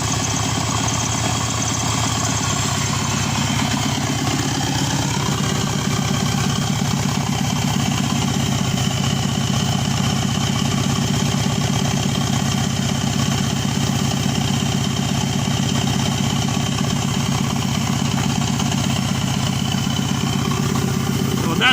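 A Subaru Forester SG9 with an EJ255 turbo engine idles steadily up close, a continuous even hum with a low throb that holds without revving for the whole stretch.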